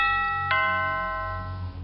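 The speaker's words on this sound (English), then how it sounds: "She walks up to the porch and rings the doorbell." A doorbell chimes on a house porch in a Puppet Combo horror video game, a clear bright ding at the start that rings on and slowly decays over a steady low background hum, with no voices.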